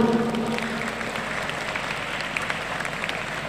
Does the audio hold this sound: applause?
yes